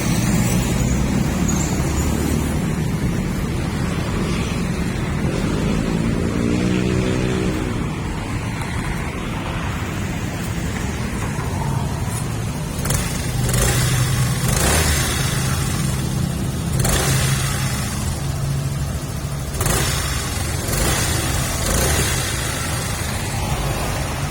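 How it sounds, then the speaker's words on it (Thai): A 2018 Honda Forza 300 scooter with 5,700 km on it runs steadily at close range, its low engine drone blending with a constant windy hiss for the whole stretch, with no talking. "ฟังเสียงเครื่องยนต์คันนี้พร้อมๆกันเลยนะครับ"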